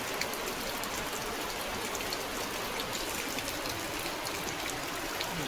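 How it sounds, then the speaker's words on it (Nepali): Steady rain falls outside during a power cut, a soft even hiss of drops with no breaks, quiet and somewhat distant, with no speech. "बाहिर चाहिँ पानी स्टार्ट भइसकेको छ"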